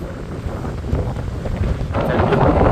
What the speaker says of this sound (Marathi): आणि वारा पण भारी सुटला आहे